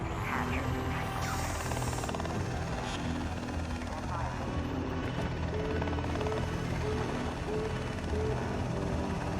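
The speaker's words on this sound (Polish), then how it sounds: "O nie, dron tu przyleciał." A drone in the video game ARC Raiders flies in, a steady whirring rotor drone with mechanical clatter held throughout at moderate level, with a person talking over it.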